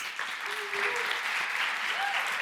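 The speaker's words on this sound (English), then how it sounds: "A warm applause, please." A crowd applauds steadily throughout, a dense wash of clapping from many hands with no break.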